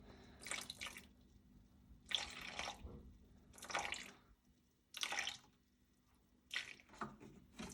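Sussex spring water is poured for sourdough in five or six short, soft bursts spaced about a second apart, quiet and close with no talking.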